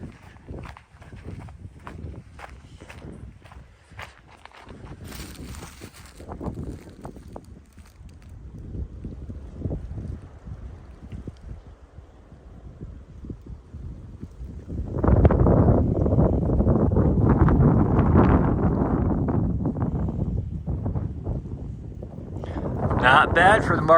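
Strong wind buffets a bluff in Mark Twain National Forest, rumbling in gusts that rise to a loud, sustained roar in the second half, with a person talking at times.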